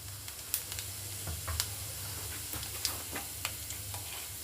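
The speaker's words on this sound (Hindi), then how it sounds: "तेल हमारा गर्म हो चुका है। इसमें हमें डालना है 1 चम्मच जीरा" Cumin seeds crackling in hot oil at the start of a dal, a soft continuous sizzle with scattered sharp pops and spatters, close and fairly quiet, with no voices.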